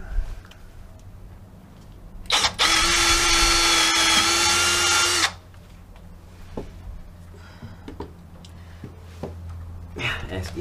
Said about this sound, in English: Back to the 8mm bit.